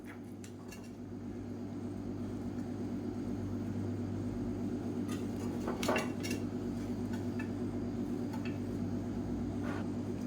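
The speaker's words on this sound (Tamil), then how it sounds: "இப்போ வந்து மேலாப்பில் நம்ம கிளறி விட்டுக்கலாம்" Egg biryani being stirred in a pot after steaming, with faint scattered scrapes and clinks of a ladle against metal over a low steady hum.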